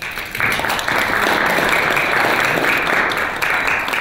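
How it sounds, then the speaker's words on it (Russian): Audience applause at a signing ceremony for agreements to supply scientific equipment for the ITER project: steady, dense clapping from a crowd that continues evenly throughout. "Опять же аплодисменты."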